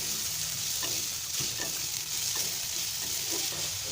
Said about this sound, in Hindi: इसे हमने तब तक फ्राई करना है जब तक कि इनका कलर चेंज ना हो जाए